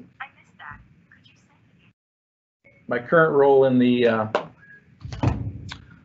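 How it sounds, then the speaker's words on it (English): A phone rings during an office webinar talk, a sustained harmonic electronic tone lasting about a second and a half and standing out loudly between stretches of speech. "sorry, my phone went off"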